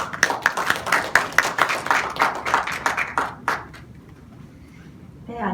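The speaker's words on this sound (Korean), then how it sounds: "나오실 때 박수로 환영해 주시면 감사하겠습니다" A forum audience claps to welcome a speaker to a science and culture panel: a run of brisk, fairly close rhythmic clapping that fades out after about four seconds, leaving a quiet room.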